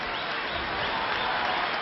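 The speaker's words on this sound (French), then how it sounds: "Victoire magnifique de Sullivan Sagnès, follement applaudi par le public de l'Élysée-Montmartre." A crowd at a wrestling match at the Élysée-Montmartre in Paris applauds a victory with dense, steady clapping that sounds muffled and band-limited, heard alone at a moderate level.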